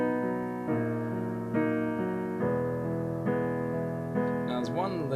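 Piano left hand alternating between the top notes and bottom note of each chord, a steady rocking pattern with chord changes about every second, sustained and moderately soft.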